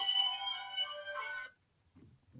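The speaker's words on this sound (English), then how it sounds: "Seems to be a little bit of a trend where there's phone calls coming in while I'm doing videos." A mobile phone ringtone for an incoming call, a bright electronic tone that plays for about a second and a half and then cuts off, leaving quiet with a faint low rustle.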